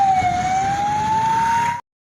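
Ambulance siren at a protest road blockade on National Highway 352 at Julana: a loud, steady, slightly rising tone holds for under two seconds, then cuts off abruptly.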